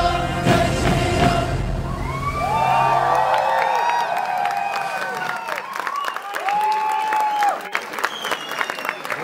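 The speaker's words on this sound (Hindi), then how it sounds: "तालियां बजती रहनी चाहिए इस धमाकेदार परफॉर्मेंस के बाद" A crowd applauds and cheers after a live song performance at a film song launch event, dense clapping under a shouting voice, with rising whistles or cheers near and loud throughout.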